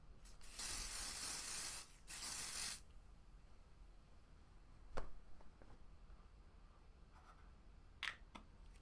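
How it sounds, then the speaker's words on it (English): An aerosol spray can hisses over a colored pencil drawing, two close bursts in the first three seconds, then faint handling noises and a brief scrape or two. "Okay, I sprayed too much that time."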